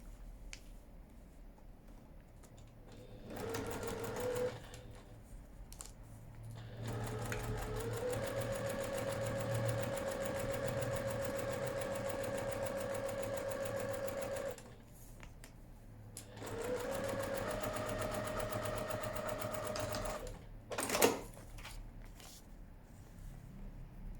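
A sewing machine stitches a quilt seam in steady whirring runs, starting and stopping several times with short pauses between, close and clear with no talking.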